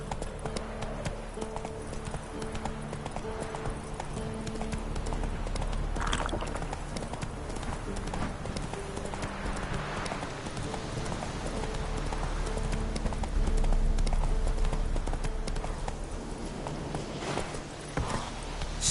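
Hooves clip-clop in a brisk, even rhythm as a horse is ridden along a path in a video game, fairly close and prominent over a continuous background bed.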